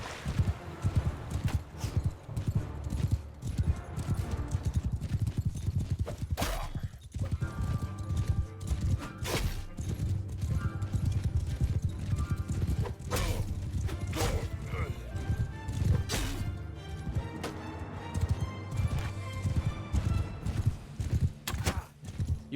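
Horses of mounted archers thunder across a battlefield in Mount & Blade: Bannerlord, with continuous galloping hoofbeats, an occasional whinny, and crashes and clatter of combat over a constant low rumble, while a voice speaks intermittently.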